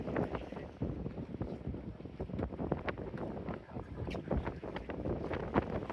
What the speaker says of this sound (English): A lot of power being used on the motorboat.